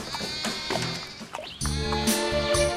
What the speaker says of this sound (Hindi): लगता है कोई बकरी फंस गई है